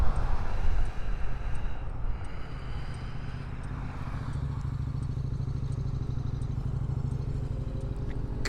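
A KTM motorcycle rides along a coastal road around the IJssel lake, its engine a loud, steady drone that starts strongest and settles into a continuous mid-level hum.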